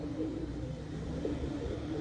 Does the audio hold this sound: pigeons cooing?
yes